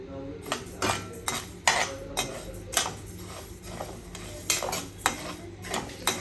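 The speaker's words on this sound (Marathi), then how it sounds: "आता सुरुवातीला आपल्याला तांदूळ भाजून घ्यायचे आणि थोडे थोडे करूनच भाजायचे" Small batches of rice dry-roasted in a pan over a medium flame, stirred with a metal spoon that clinks and scrapes against the pan in a regular rhythm of sharp strokes, close by with no talk.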